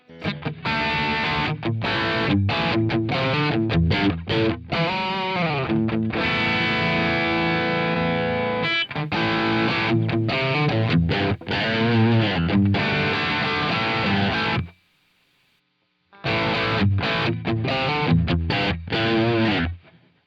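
Distorted electric guitar plays chugging chords and sustained notes, loud and saturated, with a brief silent gap before the riff resumes.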